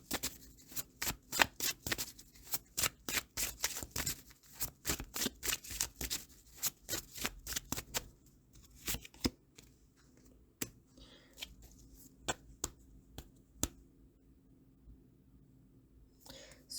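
Tarot cards shuffle quickly and close by in a rapid run of crisp riffling clicks, which then slow to a few sparse, separate card snaps and soft rustles.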